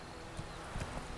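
Roach, a horse in The Witcher 3, gallops with quick rhythmic hoofbeats over steady game background sound, fairly faint.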